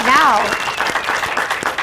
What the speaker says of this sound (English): I know we're not supposed to applaud, Tony, but we are